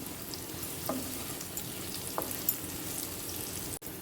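Capsicum pieces frying in oil in a pan while being stirred, a steady close sizzle with occasional soft scrapes and knocks from the spoon.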